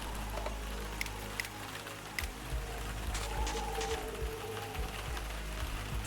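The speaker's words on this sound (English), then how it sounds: "Maybe the rain is a little bit loud." Rain sound effect from a point-and-click game in development, a soft steady patter of drops with low hum underneath and a few brief ticks, faint and continuous.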